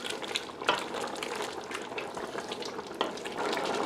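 Pork menudo with pepper simmers in a pot, giving a steady bubbling, frying texture with a few sharper clinks and pops, close and moderately loud.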